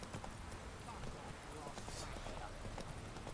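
Hooves of the horse Roach in The Witcher 3 video game, a quick steady clip-clop of galloping amid heavy rain noise, with a voice talking over it.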